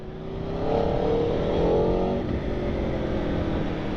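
A 2021 Aprilia Tuono V4 1100 Factory motorcycle accelerating on the road, its engine note swelling and rising smoothly in pitch under steady wind roar, heard from the rider's position.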